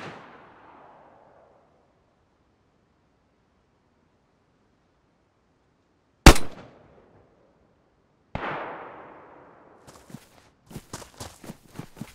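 An M14 sniper rifle in the DayZ video game fires one sharp, loud shot that rings out and decays, followed by another distant-sounding report and a series of quicker cracks.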